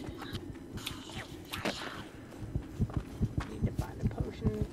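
Low-health heartbeat in Warhammer: End Times Vermintide, a steady thumping pulse growing clearer and louder toward the end, with talk and game noise over it.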